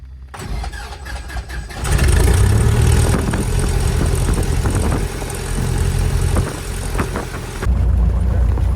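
Small plane engine cranking and catching, a sputtering start that quickly rises into a loud, steady running rumble with pulsing beats, close by and uninterrupted by talk.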